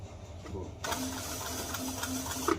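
A sewing machine stitches a sneaker upper in a shoemaking workshop, running steadily and close after a quiet start, with a faint rhythmic mechanical chatter and a brief louder clack near the end.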